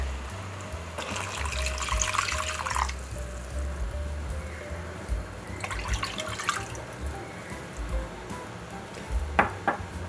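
Water is poured into a pot of braised pork with eggs, making soft splashing and trickling in two bursts, followed by a few light drips over a low background hum.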